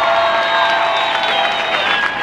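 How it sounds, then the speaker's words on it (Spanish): An audience in Havana, Cuba applauds and cheers, producing a continuous, loud wash of clapping and excited voices with a few higher shouts rising above it. "Un fuerte aplauso para esa gente linda."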